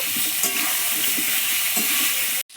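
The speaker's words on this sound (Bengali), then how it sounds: "আমি আলুটা ভালো করে ভাজা ভাজা করে নেব" Potatoes frying in a pan with salt and turmeric: a steady, close hiss of oil sizzling with faint stirring scrapes, running continuously before cutting off abruptly.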